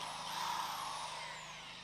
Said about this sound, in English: let's see if my drill can do it